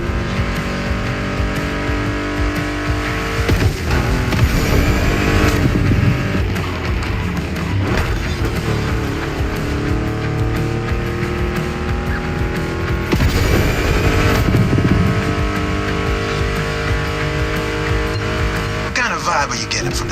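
A Mustang GT muscle car engine in the racing game The Crew Motorfest roars continuously, with revving shifts and surges, mixed with loud guitar-driven music and occasional tire squeal.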